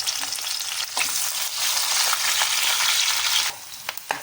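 Chopped onion and green chillies fry in tempering oil with a loud, close, steady hiss, marked by a couple of stirring scrapes before the sizzle drops off near the end, with no talking.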